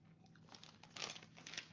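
Crisp, repeated crunching and biting of tortilla chips dipped in garlicky salsa, chewed close up in a few loud bursts with no talking.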